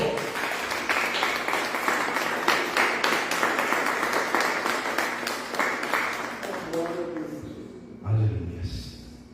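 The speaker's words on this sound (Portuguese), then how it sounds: "Dê um aplauso ao Senhor" A church congregation applauds together, steady dense clapping that carries for most of the stretch before tapering off, with a voice coming in near the end.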